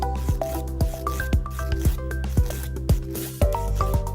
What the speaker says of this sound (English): But you do want to make sure that you're filing completely square to it.